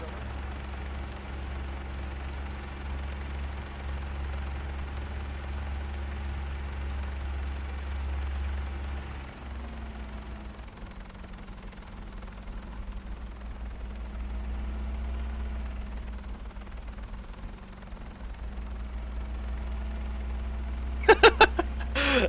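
Helicopter in the military video game Arma 3, a steady low rotor drone running throughout at moderate level, with a brief burst of sharp clicks near the end; no speech is heard over it.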